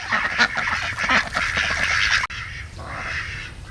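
Ducks on a homestead, out in the sun before wind and cold weather, quack loudly and close in a busy overlapping chorus of rapid raspy calls with no talking.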